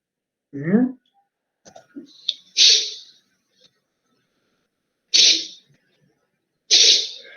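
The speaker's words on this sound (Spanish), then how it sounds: "Este es el estornudo." A dog sneezes several times, short sharp bursts spaced a couple of seconds apart, close and distinct against near silence, with a brief snort beforehand.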